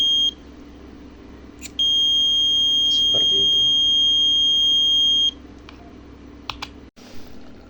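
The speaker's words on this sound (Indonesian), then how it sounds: "ketika ada api, alarm akan berbunyi" A flame detector alarm sounds a steady electronic tone for about three and a half seconds, high-pitched and continuous, with a few clicks and a brief voice before and after.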